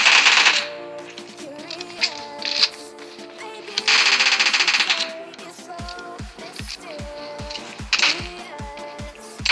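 Bursts of rapid automatic gunfire from a PUBG Mobile Lite match, with rhythmic repeated shots toward the end, loud and close amid game sounds.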